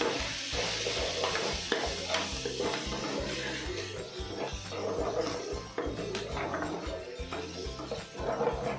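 Garam masala, chilli and coriander powder stirred in a sizzling frying pan for egg bhurji, the spatula scraping in a steady rhythm over continuous close frying.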